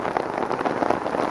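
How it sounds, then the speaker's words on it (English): Rain falls outdoors in a steady, dense patter with no pauses, fairly close and moderately loud throughout. "Even though it's raining."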